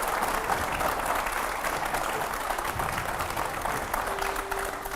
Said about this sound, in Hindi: जोरदार तालियों से एक बार फिर से स्वागत करिए